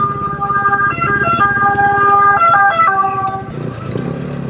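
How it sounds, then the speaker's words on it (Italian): A wailing ambulance siren with rising and falling tones, loud and close, mixed with engine noise from passing vehicles during a motorcycle rally ride in Italy. "Occhio che arriva l'ambulanza, l'automedica."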